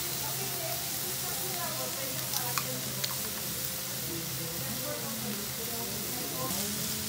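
Chopped garlic sizzles in a paella pan with red and green peppers, a steady, fairly quiet frying hiss with a low hum underneath and a couple of faint clicks.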